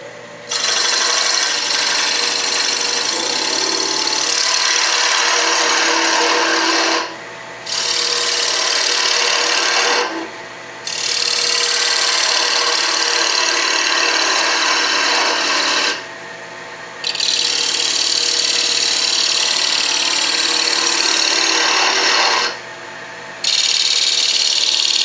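A turning tool hogs material off a spinning wood blank on a lathe for an offset pocket mirror, a loud steady rasping scrape in long passes broken by brief pauses.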